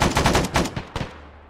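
Rapid machine gun bursts in the military shooter ARMA 3, loud, close, repeated cracks in quick rhythm during an armored cavalry patrol, tapering into a brief quieter tail.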